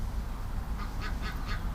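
A stubborn pet duck named Disco gives four soft, rhythmic honks that grow slightly louder, heard faintly against a low background rumble.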